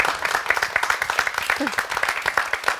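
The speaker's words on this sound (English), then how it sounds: "Let's get a round of applause for Maria here." Short, brisk burst of clapping from a small live comedy show audience at Epic Studios in Norwich, with rapid, uneven hand claps, close and moderately loud, and a voice briefly heard underneath.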